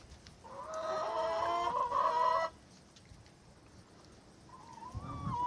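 A hen clucks and squawks loudly up close for a couple of seconds, then falls quiet; a softer call and a low rustle follow.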